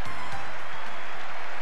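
Arsenal football crowd applauding defender David O'Leary as he sets a new club appearance record, his 622nd game, in the 1989-90 season; a dense, steady wash of stadium clapping and cheering fills the air without pause.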